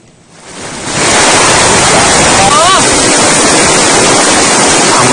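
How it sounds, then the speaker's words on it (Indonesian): Heavy rain and strong wind sweep over an outdoor burial, swelling in within a second into a loud, dense, steady roar with a brief faint voice in the middle. "Hujan deras dan angin kencang mengiringi kepulangan politisi Partai Demokrat Sultan Batugana ke peristirahatan terakhir."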